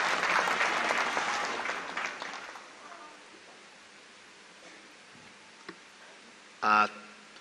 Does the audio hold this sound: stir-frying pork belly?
no